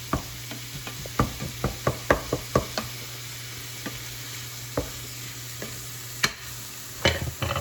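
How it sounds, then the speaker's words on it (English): A spoon works through a pot of browned ground pork and other ingredients, giving scattered scraping knocks and soft clatter over a low hum, irregular and close, with no speech. "Then you're just gonna stir this up. Just to combine everything."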